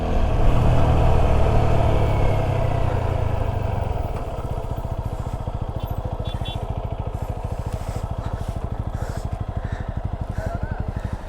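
A motorcycle labours up a steep hill road toward Lama, its engine loud and close with a dense, rapid throbbing beat that deepens and steadies as it climbs.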